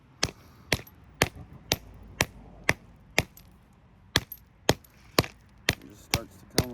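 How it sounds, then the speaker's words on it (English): A 4-pound hammer taps a brittle ferrite transformer core from an MRI power supply, giving about a dozen sharp, evenly spaced metallic knocks close to the mic over a low background hum. "I always use my 4-pound hammer, just barely have to tap it because I don't want it shattering all over the place"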